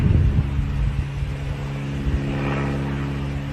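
An airplane engine runs while the plane sits on the ground, a low steady rumble with droning tones and a heavier burst at the start, heard from inside the cabin.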